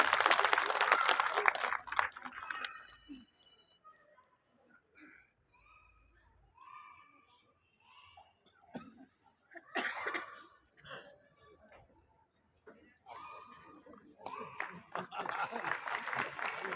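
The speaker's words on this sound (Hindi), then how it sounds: "जोरदार तालियों से स्वागत गिरीश नाथ जी माथुर साहब।" A hall audience at an oath-taking ceremony for a society's new executive committee gives a short burst of clapping to welcome a speaker. The clapping fades within seconds into murmured talk, coughs and scattered noises.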